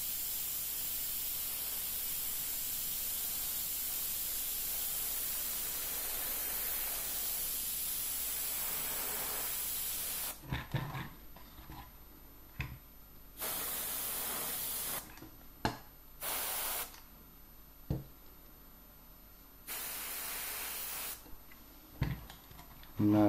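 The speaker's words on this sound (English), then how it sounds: "it's just a matter of altering the PSI and the paint flow at the back end of the airbrush" An Iwata Revolution M single-action airbrush sprays paint onto a model wing with a steady airy hiss for about ten seconds, then gives several shorter bursts of spray separated by quiet pauses.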